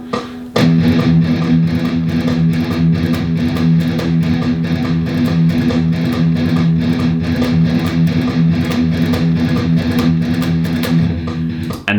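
Heavily distorted electric guitar plays a metalcore-style reverse gallop, an eighth note followed by two quick sixteenths, repeated steadily for about twelve seconds, loud and up close with no talking.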